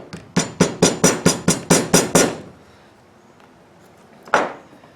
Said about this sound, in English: I'll fold them over and tap them with my smoothest hammer I have